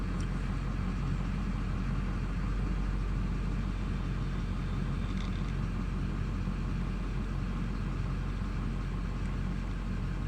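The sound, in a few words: GMC 2500HD HVAC blower fan spinning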